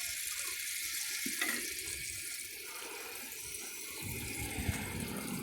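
Water is poured into the bowl of a 1951 Kohler Wellworth toilet with a faint, continuous splashing rush that holds steady for several seconds, quiet and alone.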